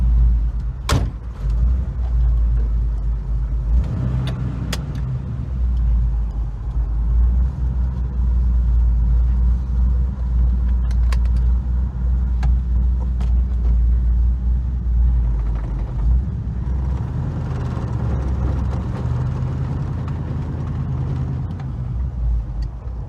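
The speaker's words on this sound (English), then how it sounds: "Reset the idle a little bit, but got a different cam in it." A car engine with a different cam idles with a low, loping rumble close by, broken by a few clicks and knocks like door or window sounds.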